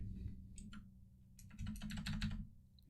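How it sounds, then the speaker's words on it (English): Keys clatter on a computer keyboard in quick bursts of typing, a few scattered taps first and then a denser run, faint and close. "You can hear me on the keyboard"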